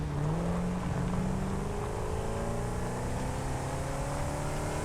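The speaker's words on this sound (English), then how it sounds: "The car just got really loud when I zoomed in on it." A car engine in the video game Satisfactory drones loud and steady, a sustained low hum with slowly shifting tones and no talk over it.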